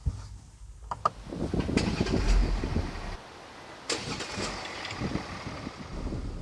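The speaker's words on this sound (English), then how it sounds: "let's start the engine and listen to the sound of this diesel" A 2020 Mercedes GLS 400d diesel SUV engine cranks and catches with a few sharp bursts, then settles into a quiet, steady diesel idle.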